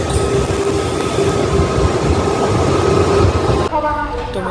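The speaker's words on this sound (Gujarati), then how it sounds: "તો મિત્રો અમારી ટ્રેન આવી ગઈ છે" A train pulling into a station on a pilgrimage trip to Ramdevra, heard as a loud, steady rumble of rolling wagons that drops and changes near the end, with voices mixed in.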